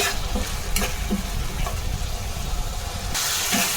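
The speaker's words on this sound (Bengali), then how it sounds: "এখন নেড়ে ছেড়ে ভালোভাবে এগুলোকে মিশিয়ে নেব এবং ভালোভাবে মশলাটাকে কষিয়ে নেব।" Spice masala frying in a pan as it is stirred for a winter vegetable bhaji: a dense, steady sizzle with scattered scraping and knocking of the spoon, loud and close throughout.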